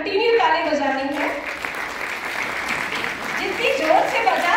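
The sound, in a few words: seminar audience clapping hands loudly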